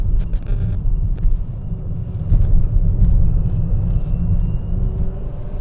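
Inside a 2021 Nissan Sentra SR with a six-speed manual, a heavy low road and engine rumble fills the cabin steadily as it drives through a corner, with a few faint clicks and rattles on top.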